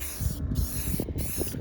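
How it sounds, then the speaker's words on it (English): Thin coat of spray paint going onto a 1996 Chevy K1500 pickup, a steady close hiss from the spray gun running continuously with slight pulses and no talking. "just spray a thin coat on it"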